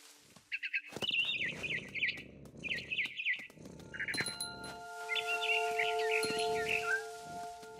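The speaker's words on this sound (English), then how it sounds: "Then I heard chirping outside my window. It was a barn swallow going back to her nest." A barn swallow chirps in the video game What Remains of Edith Finch, giving clusters of quick, high twittering calls again and again over soft ambient game sounds and faint sustained tones.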